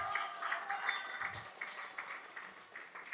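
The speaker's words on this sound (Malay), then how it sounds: "Saya nak minta you all semua berikan tepukan kepada mereka yang baru hadir" A seminar audience applauds newcomers with dense, steady clapping at middling distance, continuous for the whole stretch with slight swells and no speech over it.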